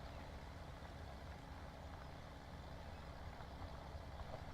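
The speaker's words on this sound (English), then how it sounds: "This tractor is not struggling at all" A tractor engine in Farming Simulator 17 runs steadily at a low, even drone. The sound is faint and unbroken, with no talking.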